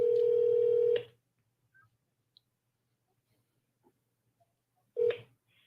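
A telephone line rings through a handset, with one long electronic ring tone cut off, a pause of near silence with tiny clicks, then the next ring starting.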